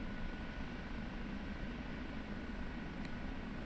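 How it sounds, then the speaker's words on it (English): An OH-58D Kiowa Warrior helicopter flies in the DCS combat flight simulator, giving a steady, dense engine and rotor drone that holds at an even level throughout. "Pretty nice helicopter to fly, to be honest."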